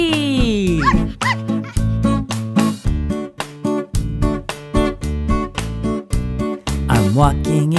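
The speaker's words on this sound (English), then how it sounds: "It's a cute little puppy." A puppy in a children's finger family song gives a rapid string of yips, barks and whimpers over a bouncy musical backing, close and loud with short gaps between calls.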